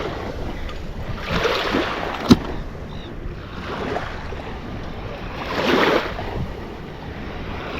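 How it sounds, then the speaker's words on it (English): Gentle waves lap and wash along the shore of Lido Key beach, two soft swells rising and fading under steady wind rumble on the microphone. "gently lapping waves."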